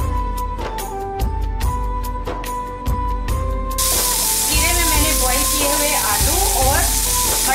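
Cumin seeds crackle and sizzle in a small amount of hot oil, a steady close frying hiss with light stirring, growing fuller partway through as more goes into the pan over a music background.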